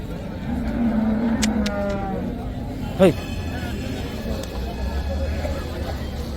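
A cow moos nearby amid a busy cattle market hum in Sardarnagar, with people talking and chatter continuing throughout.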